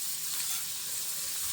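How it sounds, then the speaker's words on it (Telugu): Onions and whole spices frying in oil, a soft steady sizzle and hiss, faint and brief, with no talk. "అవి కొంచెం ఫ్రై అయిన తర్వాత హోల్ స్పైసెస్ యాడ్ చేసుకొని అవి కొంచెం ఫ్రై చేసుకోవాలి"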